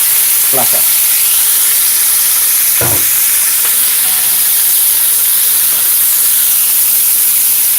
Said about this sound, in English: what you want to do now is just to quickly saute your shrimp